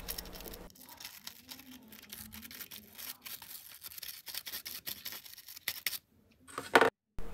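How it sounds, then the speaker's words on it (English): A small brush scrubs around the thumbstick of an Xbox Series X controller, giving close, quiet, irregular scratchy rubbing strokes, then a brief pause and a sharper scrape near the end. "grab a small brush like what you see here and loosen up any debris or dirt that could be causing the problem"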